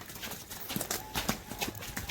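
A bull at a mud-ploughing competition in Konkan steps along as it is led out, making uneven hoof thuds and knocks at a moderate pace, fairly faint, with no voices.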